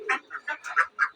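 Ducks kept on a farm in hot weather let out a quick run of six clipped, nasal quacks close by, loud and choppy with short gaps between calls, and no voices present.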